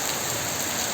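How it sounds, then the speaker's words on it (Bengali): Rain falls heavily after a spell of intense heat, a brief, steady, close hiss of drops pattering on surfaces. "দেখো সুন্দর বৃষ্টি হচ্ছে"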